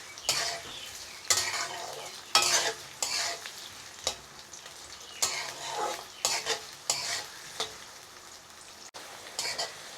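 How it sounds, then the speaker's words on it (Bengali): Chopped onions frying with a little salt in hot oil in a wok over low heat: a soft continuous sizzle broken by rhythmic, clattering strokes of a utensil scraping the pan. "এখন আমি পেঁয়াজ কুচিগুলো ভেজে নেব।"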